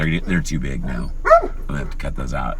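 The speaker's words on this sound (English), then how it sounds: "And as you can hear the dog barking" A guard dog yips and barks briefly in the background while someone talks steadily over it outdoors.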